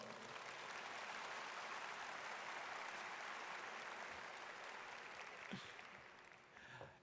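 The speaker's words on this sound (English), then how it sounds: "Please give them a round of applause." Broad, even applause from a large crowd at a community college graduation ceremony, a sustained wash of clapping heard at a distance and rather faint, easing off near the end.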